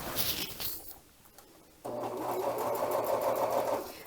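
A serger stitches ribbon and tulle together. The machine starts up partway through, then runs in a steady, close, loud whir, with some faint handling before it begins.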